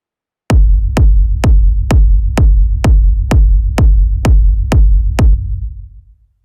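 Techno track low end, a loud kick-and-bass hit pulsing eleven times at a steady four-on-the-floor tempo, each thump decaying into deep rumble, then fading out at the end.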